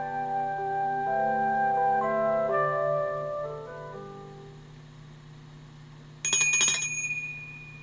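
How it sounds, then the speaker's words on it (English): A bright bell rings once after a gentle melodic chime sequence fades, a quick shimmering trill standing out clearly and loud, signalling a page turn in a Ladybird nursery rhyme book reading. "When you hear my bell, turn the page over"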